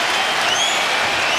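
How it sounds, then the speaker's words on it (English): A basketball arena crowd at the 2008 NBA Finals Game 6 between the Celtics and Lakers roars and cheers in a dense, sustained wall of noise with no distinct individual voices. "And the crowd gets on its feet."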